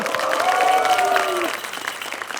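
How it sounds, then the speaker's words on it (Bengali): A studio audience at a comedy game show clapping, with a brief burst of dense applause mixed with a voice and a held sung or called note before fading quickly. "সবাই তালি দাও একটা।"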